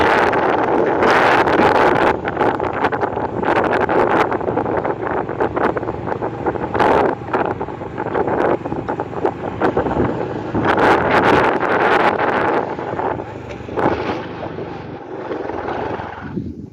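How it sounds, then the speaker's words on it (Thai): Strong wind at a dam buffets the microphone in a steady, loud roar with repeated harsher gusts across the whole stretch, and no voices are present. "ฮอดเขื่อนแล้วเบิ่งลมพ่อแม่พี่น้องลมแห้งอะไร"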